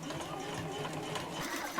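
A sewing machine back stitches on a fabric eco bottle carrier, a faint, even, rapid whirring clatter that runs unbroken for under two seconds.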